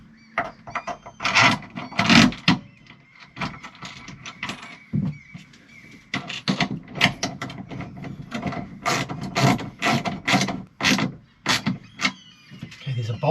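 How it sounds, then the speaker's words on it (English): Bolts being fitted into a DIY pop top camper roof made from a roof top tent, with steady close knocking, scraping and clicking of metal against the roof panel, busy and uneven. "I want to get bolts in"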